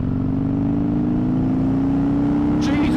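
A Harley-Davidson Dyna Fat Bob (FXDF) motorcycle engine pulls hard in third gear, a loud, close, steady drone that rises slowly in pitch throughout as it accelerates toward peak torque.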